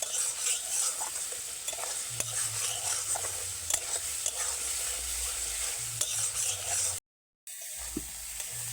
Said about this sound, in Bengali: পেঁয়াজের সঙ্গে লঙ্কা গুঁড়োটা দিয়ে বেশ সুন্দর ভাজা ভাজা করে নেব পেঁয়াজটাকে